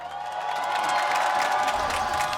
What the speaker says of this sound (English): All right, crowd. I want to hear you scream.